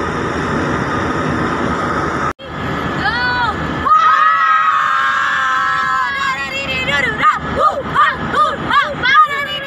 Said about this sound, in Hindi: फैमिली इसी तरह चीखती है चिल्लाती है